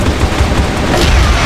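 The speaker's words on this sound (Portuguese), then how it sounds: "Granada." A grenade blast in a first-person shooter game sounds as a dense, loud, continuous rumble of explosion and gunfire noise that fills the whole short moment, with no voices.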